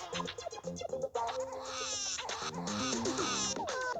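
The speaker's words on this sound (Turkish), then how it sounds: "Bak bir de üzülüyor ağlıyor." Lara, a character in a video game, cries in a high, wavering, sobbing voice. The whimpers rise and fall in short bursts over light game music, close and fairly soft.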